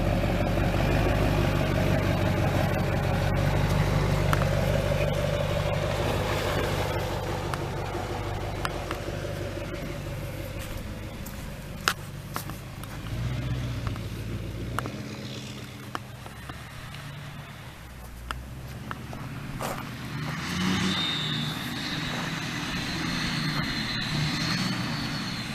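A 2005 Chevy Silverado 2500 HD with a Duramax diesel engine drives along, its steady low drone loud and continuous throughout, easing somewhat partway before building again, with no talk.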